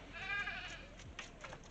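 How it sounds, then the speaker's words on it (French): Goats on a farm bleat from close by, a wavering nasal cry followed by several shorter bleats in quick succession. "Il y a toutes les chèvres qui râlent ce matin."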